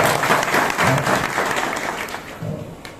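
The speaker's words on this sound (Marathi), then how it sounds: "एकदा महाराजासाठी टाळ्या वाजल्या." An audience at a devotional kirtan programme breaks into applause for the performing maharaj, loud and dense at first and then gradually thinning and fading away.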